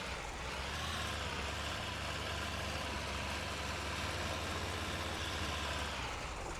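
An MTZ 1221 tractor engine in the off-road game Spintires runs as a steady, loud diesel drone with constant low rumble and no change in pitch, with no talking over it.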